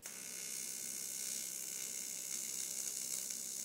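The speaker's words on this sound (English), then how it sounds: "I'm going to go ahead and TIG weld it into a complete speaker box" A TIG welder fuses aluminum sheet into a speaker box, producing a steady, faint hissing buzz that holds evenly for several seconds with no pauses.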